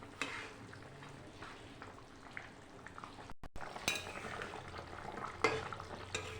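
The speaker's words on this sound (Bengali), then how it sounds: "ভালো করে ফুটিয়ে নেব।" Katla fish curry simmers in a pan with a steady low bubbling and sizzle, broken by a brief dropout. Occasional clinks of a spoon against the pan, close and moderately loud, with no talk.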